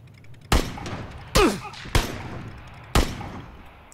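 Four loud, sharp gunshots sound in PlayerUnknown's Battlegrounds, spaced irregularly with short reverberant tails over a low game background.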